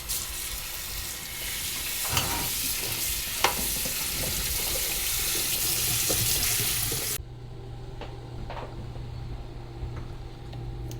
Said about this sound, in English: All right, so then we just rinse our broccoli and we're ready to put it in our soup.